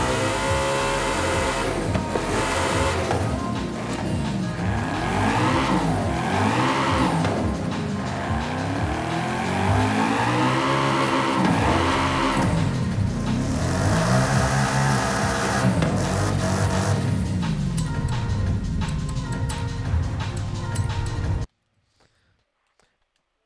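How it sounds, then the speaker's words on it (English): A car engine in the racing game Forza Horizon 5 revs loudly and continuously, its pitch sweeping up and down through repeated throttle blips with some tire squeal, then cuts off abruptly near the end. "Now we can just listen to the engine itself."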